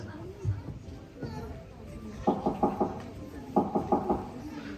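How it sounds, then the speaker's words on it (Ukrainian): Knocking on a door during a Christmas nativity play: two quick bursts of four sharp raps each, heard over a murmur of children and adult voices. "Ой, хтось до нас стукає."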